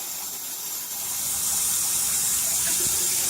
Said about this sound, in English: we're going to fill up the water pretty much to about this line here on the tumbler